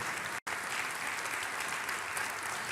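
Steady, dense applause from a church congregation fills the space without a break, continuous and fairly even in level apart from one momentary dropout near the start.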